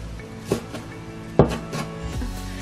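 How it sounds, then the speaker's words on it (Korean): A knife chops wild chives (dallae) into small pieces on a cutting board, a few separate sharp knocks spaced unevenly apart, fairly close and moderately loud with quiet gaps between. "그리고 한 입에 먹기 좋게 잘게 잘게 썰어 주시면 된답니다"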